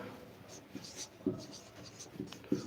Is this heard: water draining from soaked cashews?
no